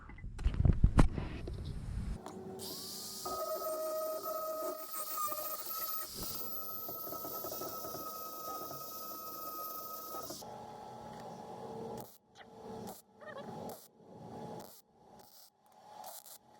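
Welding small pieces of steel angle onto a fire pit built from a water expansion tank: a steady buzzing, crackling arc runs for about eight seconds after a few knocks, followed by short bursts of scraping or grinding.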